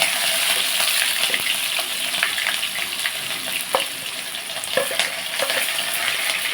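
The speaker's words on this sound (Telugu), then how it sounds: "ఇదిగోండి ఆయిల్ హీట్ ఎక్కింది మనం ఇప్పుడు ఇందులో పచ్చిమిరకాయలు ఉల్లిపాయలు అలా వేసేసుకున్నాం" Green chillies and onions frying in hot oil crackle loudly and steadily up close, with frequent spatula stirs and scattered sharp pops across the whole stretch.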